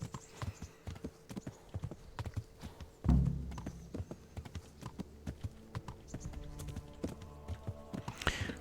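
Horse hooves clip-clopping at a steady walking rhythm in the game Kingdom Come: Deliverance, close and clear, with a heavy thump partway through and a soft whoosh near the end.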